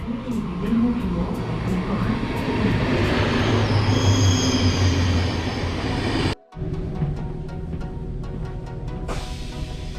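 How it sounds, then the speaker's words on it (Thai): A train rolls into a station with loud rumbling and squealing wheels, then the noise drops and a quieter idling hum with rhythmic clicks follows. "มาละจ้าพี่น้องรถไฟยังตรงเวลาเลย"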